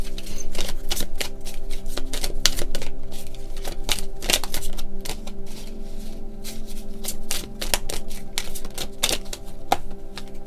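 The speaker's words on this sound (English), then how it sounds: "Now let's shuffle this smaller stack here." A small stack of tarot cards being shuffled by hand, close and crisp, with rapid irregular riffling clicks and slaps running steadily throughout, no voices.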